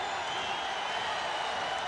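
Basketball arena crowd at an NBA Finals game between the Chicago Bulls and LA Lakers, a steady broad roar of cheering and noise that holds loud and unbroken throughout.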